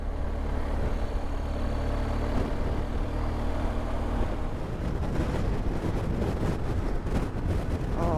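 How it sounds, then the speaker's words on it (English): Strong crosswind buffets a rider on a BMW GS Adventure motorcycle north of Amsterdam, a loud continuous roar of wind noise over the engine that builds into heavier gusty rumbling partway through. "there's that side wind again. Absolutely ferocious."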